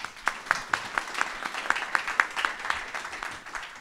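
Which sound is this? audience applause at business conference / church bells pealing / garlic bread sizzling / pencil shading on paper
audience applause at business conference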